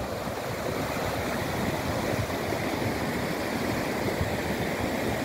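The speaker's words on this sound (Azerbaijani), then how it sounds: "Bir tərəfdə çay axır." A river flowing beside springs in a mountain village in Azerbaijan gives a steady, full rushing wash of water that holds evenly close by throughout, with no voices.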